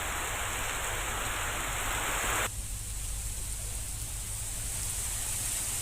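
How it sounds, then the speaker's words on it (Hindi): Heavy monsoon rain with water flowing fast through streets, a loud dense hiss that drops to a softer steady wash partway through. "बाजरा पाला इलाके में झमाझम बारिश की वजह से गलियों में तेज रफ्तार में पानी बह रहा है।"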